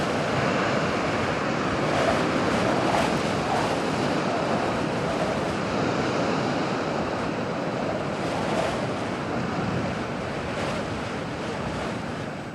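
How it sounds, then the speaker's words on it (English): Storm surge waves pour and crash onto the Rockaways shore in a steady, dense roar of surf mixed with strong wind buffeting the microphone, continuous and loud throughout with no voices. "just this relentless storm surge pouring into the Rockaways"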